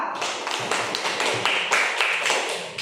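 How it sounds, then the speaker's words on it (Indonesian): Clapping from a classroom audience for a student group presenting discussion results, a short burst of scattered claps at moderate volume with some faint voices in the room. "Tepuk tangan untuk kelompok 2."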